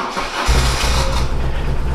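A BMW R1100S motorcycle's big boxer engine, newly fitted with spark plugs after not running, cranks briefly and then catches, settling into a loud, steady, close-up rumble with no talking.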